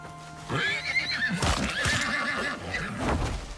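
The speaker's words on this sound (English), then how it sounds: "Thought I seen a horse." A horse in the open-world survival video game Icarus gives a loud whinny, with a few hoof clip-clops and rustling around it, fairly close and alone without speech.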